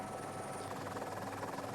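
A helicopter flies over the start of an offshore sailing race, giving a steady, faint, distant rotor and engine drone throughout under a windy background.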